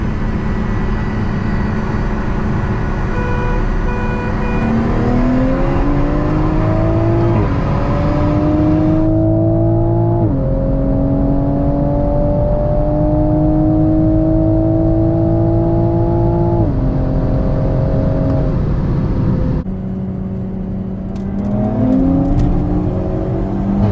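A tuned Hyundai Elantra N and a 2022 Toyota Supra 3.0 accelerate hard side by side in a drag race, engines roaring and climbing in pitch through several gear shifts, loud and sustained.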